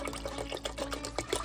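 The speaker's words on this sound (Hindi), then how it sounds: "अभी दही को पानी डाल के डाइल्यूट कर लेंगे।" Water poured into a bowl of yogurt to thin it, a soft continuous splashing trickle with faint bubbly gurgles, close and fairly quiet, with no voices.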